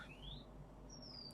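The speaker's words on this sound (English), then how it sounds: "I'm in competition with a very loud bird in my garden." A bird sings in a garden, giving a few thin rising whistled notes at moderate distance over a steady low background hum, with a short sharp chirp near the end.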